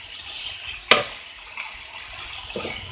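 Quail fries in masala in a pan for a quail pepper fry, with a soft steady sizzle and one sharp clatter of stirring near the start, followed by fainter scrapes; no one speaks.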